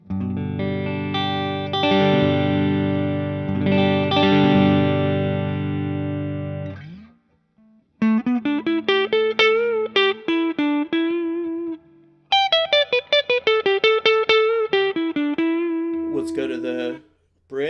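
An electric guitar, a PRS DGT SE on the neck pickup, plays a sustained, ringing chord, then two runs of quick picked single notes, with brief pauses between passages.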